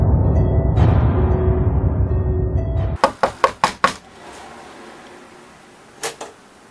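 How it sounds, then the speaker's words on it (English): Knocking on a door in the horror video game Disturbed IV: a burst of five sharp, loud knocks in quick rhythm after a droning background cuts out, then two more knocks a few seconds later. "Do you hear the knocking?"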